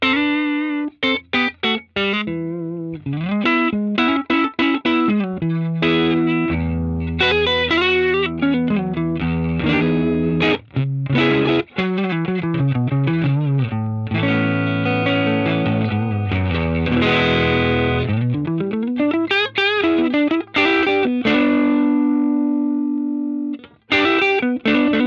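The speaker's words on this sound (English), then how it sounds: "this one sounds amazing on the neck pickup for clean stuff" Clean electric guitar on the neck pickup through an Axe-Fx III 5F8 Tweed Twin amp model with the input drive turned down. It plays a long run of chords and single-note phrases, close and steady, with no voices.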